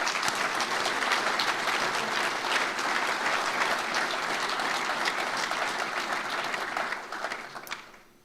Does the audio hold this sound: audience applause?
yes